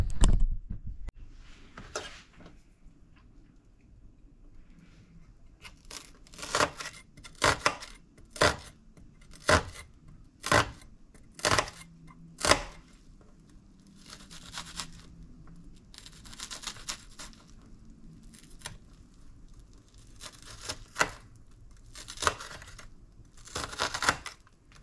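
Knife mincing onion on a cutting board for salmon cakes, a series of sharp, irregular chopping taps with short bursts of rapid strokes and quiet gaps between, close and fairly crisp.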